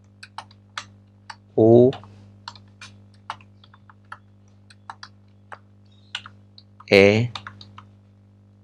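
Computer keyboard keys click in scattered single taps while programming code is written, crisp and close, with someone briefly speaking twice over the background hum.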